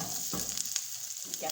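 Vegetables sauté in a hot pan for Singaporean rice, a soft steady sizzle with brief stirring scrapes, faint and close.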